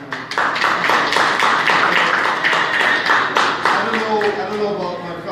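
A convention panel audience claps loudly and steadily, close and sustained through most of the moment, with voices mixed in beneath the clapping.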